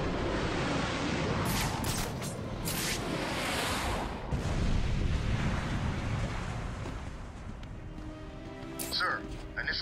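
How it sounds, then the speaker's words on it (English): Heavy explosive rumbling and bursts of artillery bombardment hitting the museum in Batman: Arkham City, a dense, loud roar that swells and fades with sharp high crackles near the end, under a talking voice. "Sir, initial bombardment of the museum has been completed"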